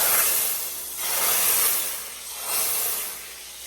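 Mole paste sizzles in very hot oil, a loud, steady frying hiss that swells and eases in waves, close and with no talk.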